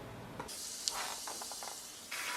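A piece of bitter gourd dropped into hot ghee sizzles with a sudden broad hiss that settles into steady frying crackle, a small pop and a fresh surge of hissing toward the end, close and alone.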